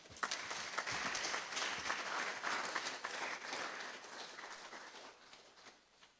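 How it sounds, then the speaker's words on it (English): An audience at a public forum applauds after a speech, with a full, even round of clapping that carries on for several seconds before gradually tapering off. "Can we give him another round of applause?"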